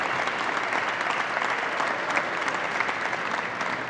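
Dense, steady applause from a crowd at a women's squash tournament fills the whole stretch, loud and continuous without letting up.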